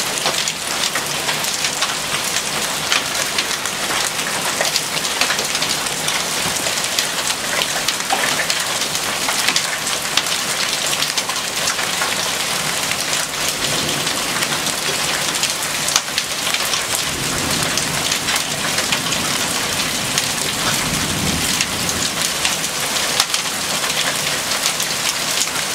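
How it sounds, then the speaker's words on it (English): Steady, dense pattering of hail and heavy precipitation striking a porch close by in Virginia, a continuous hiss with no voices. "This hail just falling into my porch here."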